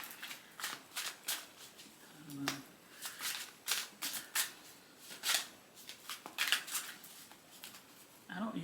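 An oracle card deck is shuffled by hand in quick, rhythmic riffles and flicks, close and crisp, repeating in bursts across the whole stretch with a brief low murmur of voice partway through.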